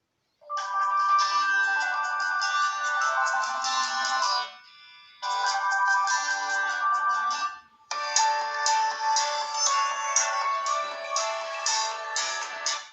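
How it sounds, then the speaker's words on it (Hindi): Ringtones play loud and bright through the speaker of a Tecno Spark 6 Go phone, two melodic tunes sounding in turn with a brief break between them and no talking. "साउंड एंड वाइब्रेशन में आ जाते हैं और यहाँ से कुछ रिंगटोन्स को चला के देख लेते हैं"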